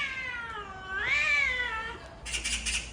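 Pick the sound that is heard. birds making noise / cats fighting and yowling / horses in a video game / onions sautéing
cats fighting and yowling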